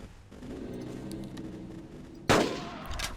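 A single loud gunshot cracks close in Carnivores Triplex, fired at a Stegosaurus after a low steady ambient hum, its sharp blast decaying quickly into a short tail.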